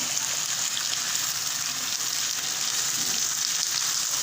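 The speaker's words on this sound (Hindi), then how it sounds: "लहसुन डाल रहे हैं, मिक्स करेंगे।" Garlic sizzles and fries steadily in a pan while being stirred for a potato dish, a continuous close hiss of hot oil throughout with no speech.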